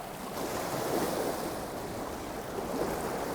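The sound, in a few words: waves crashing on the shore while fishing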